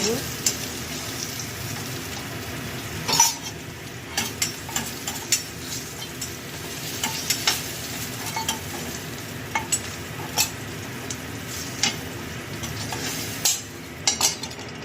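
Spinach frying in refined oil in a pan, a dense, continuous close sizzle with frequent light clinks and scrapes of a spatula stirring through it.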